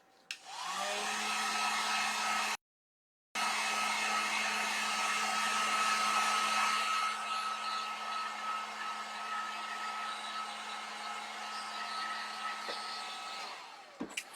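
A hair dryer blows on a home decor craft heart with a loud, close, steady roar and a high whine, cut off briefly once before running on and switching off at the end.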